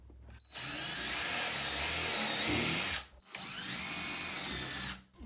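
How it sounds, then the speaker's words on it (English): A power drill boring a pilot hole during a bedroom renovation, two loud sustained whirring bursts up close with the motor pitch shifting under load, separated by a brief stop. "So I'm just drilling a pilot hole."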